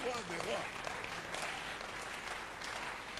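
Church congregation applauding during a French-language sermon on marriage: dense, steady clapping that fills the whole moment at moderate level, with a voice faintly audible early on.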